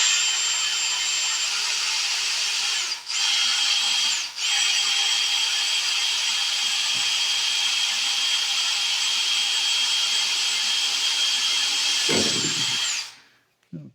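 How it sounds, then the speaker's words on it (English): A power drill spins steadily while boring a small pilot hole during work on a 1948 Willys pickup, with a loud continuous whine that dips briefly twice before winding down near the end. "I'm going to start with a small pilot hole here."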